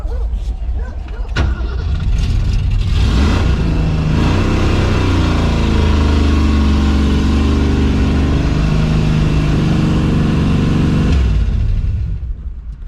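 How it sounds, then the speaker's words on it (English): A 1968 Mercury Cougar engine roars with a sticking throttle, holding a loud, sustained high rev for several seconds after a failed burnout attempt before dropping back, with faint voices nearby. "Negative on the burnout, and then the throttle's sticking or something."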